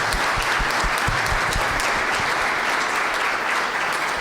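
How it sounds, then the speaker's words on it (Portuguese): Applause from an audience at a talk, with loud, continuous clapping that stays even and full across the whole stretch and has no speech over it. "Uma salva de palmas"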